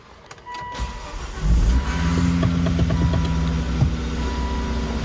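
Volvo V70R engine cranks and catches on its first start after a repair, settling into a steady, loud idle with a low rumble and a faint whine, no voices.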